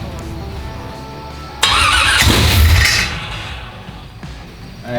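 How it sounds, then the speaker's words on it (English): A 355 engine in an El Camino project car cranks and catches for the first time, a sudden loud burst of starter whine and roaring engine noise that swells for about a second and a half, then settles back to a lower idle. "We're gonna try to start it up."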